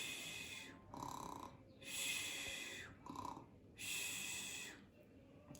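A voice imitates a lamb snoring softly during a Catalan children's story about a wolf and a lamb, with several slow, rhythmic breathy snores and short pauses between them.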